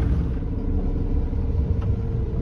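An offroad vehicle rolls through Tessel, a town in Bulgaria's Rhodope mountains, its engine a steady low rumble heard from inside, continuous with no voices.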